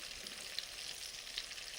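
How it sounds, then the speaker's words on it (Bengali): Oil sizzles and crackles steadily in a pan as shrimp fry, a soft continuous hiss with a couple of faint pops. "চিংড়ি মাছগুলো ভাজা হয়ে গেছে"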